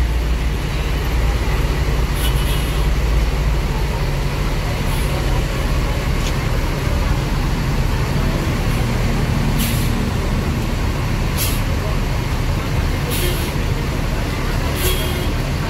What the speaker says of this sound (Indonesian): Oke, bus keluar.